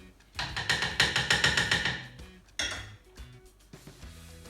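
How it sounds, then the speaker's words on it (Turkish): Metal spoon scraping and knocking around a bowl as a frozen yogurt mixture is gathered from the sides, a quick run of rhythmic clinking strokes followed by a few sparser scrapes and taps, close and fairly loud. "şimdi yanlarındaki malzemeyi sıyırarak tekrar içine alacağım ki balda tüm malzemeler birbirinin içine geçsin"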